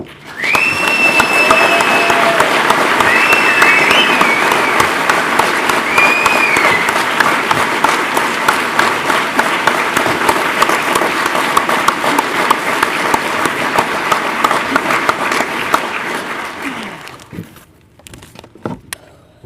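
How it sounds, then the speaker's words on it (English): Mourners at a celebration of life give a long, loud round of applause, a thick wash of clapping that holds for about seventeen seconds, thins into scattered claps and fades out. "So can we just celebrate her life for a moment for one just outrageous round of applause for her life?"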